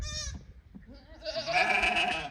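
Sheep and goats on a farm bleating, with a near bleat at the start followed by a louder, longer wavering bleat from the flock, moderately close with light background noise.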